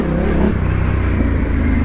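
A Yamaha Tenere 700 motorcycle engine revving while riding off-road on a single track, a loud, close, continuous throaty drone with pulsing low rumble.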